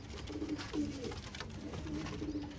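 Low, murmuring coos from Ferozpuri pigeons repeat steadily over a faint background hum, several soft calls spread across the short stretch.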